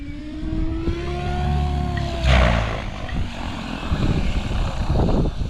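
Model helicopter motor idling during autorotation practice, a steady mid-level whine with falling and sliding tones, outdoors, with gusty wind rumble and a brief louder swell partway through.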